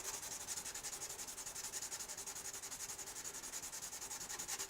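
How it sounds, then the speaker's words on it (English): Steady rhythmic hand sanding of the binding on a Gibson J40 acoustic guitar, a fast back-and-forth rasping scrape that continues evenly throughout, close by. "I'm just sanding the binding right here now."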